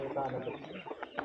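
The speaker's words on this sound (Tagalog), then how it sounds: "Mga manok. Manok ni Sir Vincent." Chickens belonging to a friend cluck briefly at a farm association area, a soft close jumble of fowl calls with voices talking over them.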